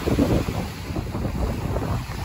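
Sea waves and wind on a beach near Pattaya, with a brief burst of wash and heavy wind buffeting against the microphone.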